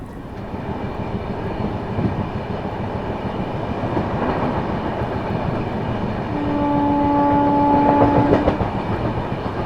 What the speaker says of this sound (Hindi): निकल चुकी है अपनी ट्रेन जो है टुवर्ड्स आनंद विहार टर्मिनल